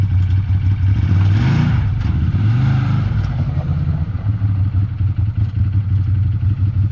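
Arctic Cat 1000 off-road vehicle engine running close up while driving around, a steady low rumble that swells with a revving surge near the start and continues throughout, no talking.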